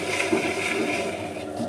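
An electric coconut grinder grates coconut, a brief steady whirring grind with a rough, scratchy texture, close by and without speech.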